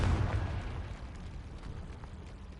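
An explosive Confringo spell blast from the Hogwarts Legacy video game, a loud booming burst at the start that rumbles and decays into a lingering low roar over the next couple of seconds.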